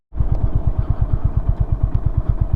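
A stopped motorcycle idles close by, its engine putting out a fast, even chain of low thumping pulses with a slight mechanical clatter, steady and loud with no voices.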